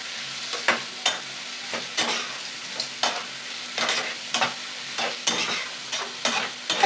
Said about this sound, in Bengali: আলুটাকে একটু কষিয়ে দেব